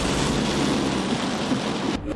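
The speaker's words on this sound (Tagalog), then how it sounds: "Tila pansamantalang pahinga mula sa mainit na panahon ang panakanakang ulan sa Metro Manila at Karatig Provincia." Intermittent rain in Metro Manila, a steady dense hiss of falling drops, loud and close, cutting off abruptly at the end.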